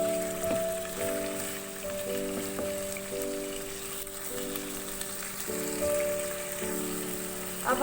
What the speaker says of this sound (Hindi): 3 से 4 मिनट तक चिकन को ऑयल और लहसुन अदरक के साथ अच्छी तरह फ्राई करेंगे।